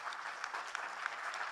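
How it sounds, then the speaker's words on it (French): Audience applause after a tech talk, quiet and distant, a short steady patter of many hands clapping with a few sharper claps standing out. "On applaudit Mariam."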